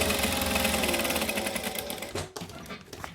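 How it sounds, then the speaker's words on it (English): A sewing machine top stitches along a pouch seam at a long stitch length, a steady close whirring hum that runs continuously before slowing into a few uneven final stitches. "I'm going to top stitch 1/8 of an inch each side of the seam"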